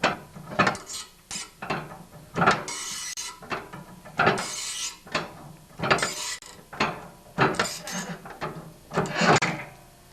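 A breaker bar works an auger bushing on a Toro snowblower, giving a run of sharp, irregular ratcheting clicks and metallic knocks close up, with no voices.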